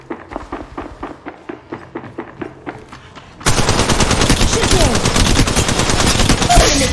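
Gunfire in a shooter video game: spaced single shots at first, then a sustained loud burst of rapid automatic fire that runs to the end, with brief in-game voice callouts.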